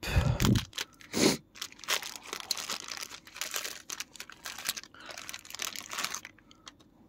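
Crinkly tape and packaging sounds close by while unboxing a Dragon Ball Z Ichibansho figurine: a couple of sharp rips near the start, then scattered crackling and crunching that trail off to quiet.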